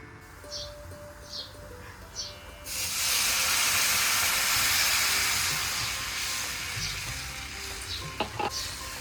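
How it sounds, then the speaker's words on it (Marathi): A glass of water hits hot roasted masala seasoned with salt and turmeric in a pan for Maharashtrian pithle, bursting into a loud sudden sizzle and steamy hiss that slowly fades, preceded by a few light clinks. "आता त्यामध्ये 1 ग्लास पाणी ओतून घेऊया"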